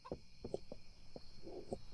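Short clucks from a chicken in a blocky survival video game, several separate brief calls spread over two seconds, moderately loud over a faint steady background hum.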